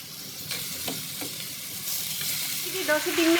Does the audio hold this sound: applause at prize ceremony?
no